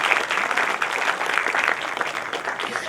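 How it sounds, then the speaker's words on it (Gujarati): Audience applause at a Gujarati book talk honouring a poet's award, a sustained dense patter of many hands clapping that holds steady and full for the whole stretch, close and loud with no speech. "ખૂબ જ તાળીઓ સાથે એમની આ સિદ્ધિને બિરદાવે."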